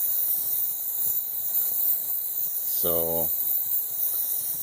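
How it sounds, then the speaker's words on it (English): Steady hissing of a torch flame held about an inch and a half above a nut welded onto a broken, seized head bolt on a Toyota 22RE four-cylinder engine. The hiss is continuous and close, with a brief spoken word partway through. "Holding the torch about an inch and a half off the top of that nut that I welded on there."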